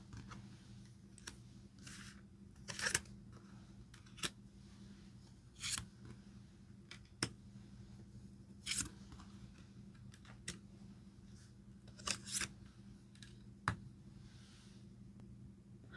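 Tarot cards being picked out and handled, with sparse soft card flicks and taps at irregular intervals, close and quiet, no talking.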